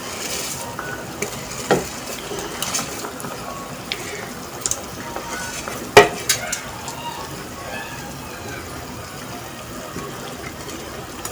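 Two cups of rice go into a pot of hot water for matar pulao, a soft splashing pour with light scraping and one sharper knock of utensil against the pot, in a quiet kitchen.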